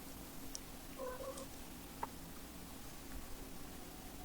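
A pet cat gives a couple of short, quiet meows at moderate distance over a low steady room hum, with faint clicks and rustles around them and no talking.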